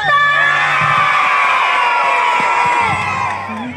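A large crowd at a Ramadan festival music patrol event cheers and shouts loudly and continuously, with high-pitched screams and whoops, tapering off slightly at the end.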